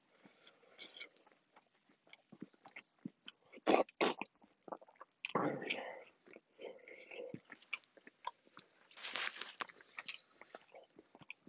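A Del Taco chicken roller is bitten and chewed close to the microphone, with crunchy bites in scattered bursts between quieter chewing and a few soft whispered words.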